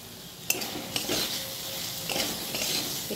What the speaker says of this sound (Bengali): এর মধ্যে আমি সেদ্ধ করা আলুগুলো দিয়ে দিচ্ছি, দিয়ে একটু নাড়াচাড়া করে নেব